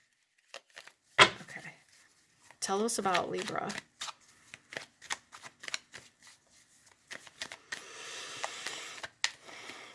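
Tarot cards being shuffled by hand in crisp, papery bursts, with a longer riffling stretch near the end, close and clear. A person talks between the shuffles.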